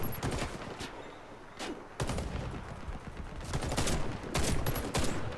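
Gunfire in the shooter game Warface, several bursts of close shots in uneven clusters over a steady battle din, with a quiet stretch in the middle.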